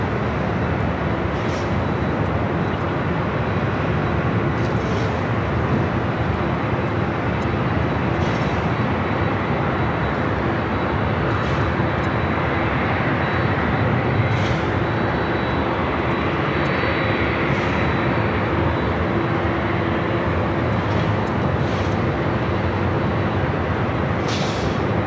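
Jet airliner engines roar steadily at LAX airport, a constant broad rumble and whine from a nearby aircraft on the ground, with no talk over it.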